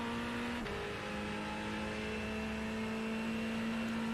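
Sim racing game car on a straight, with a steady engine drone holding a constant pitch, one brief shift near the start, continuous and fairly loud with no talk.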